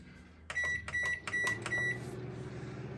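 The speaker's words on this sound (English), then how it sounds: "Let's go put it in the microwave and see if it explodes." A microwave oven, loaded with a Micro Toastie cheese sandwich maker, gives a quick run of close, bright keypad beeps, then settles into a steady low running hum.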